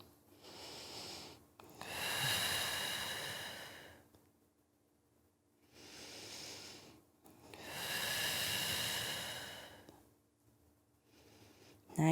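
Slow deep breaths during a desk stretch, each a long airy inhale or exhale swelling and fading, two main breaths close to the mic with quiet gaps between and no talk.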